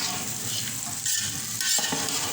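Okra frying in a pan, a loud, dense, continuous sizzle close by with brief stirring shifts.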